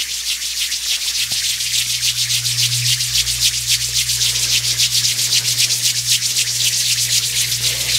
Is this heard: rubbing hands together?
yes